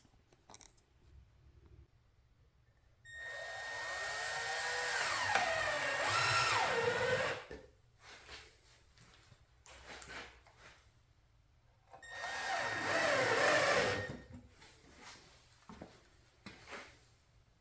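A power drill drives screws into a homemade water fountain pump in two short bursts of whirring motor noise about three seconds each, separated by quiet handling sounds, close and fairly soft.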